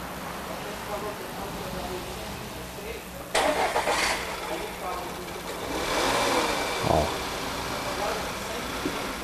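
A Volkswagen Tiguan engine runs roughly and fails to hold a steady idle after valve cover diaphragm work, with an irregular mid-pitched idle, brief surges and a low dip, while people talk nearby.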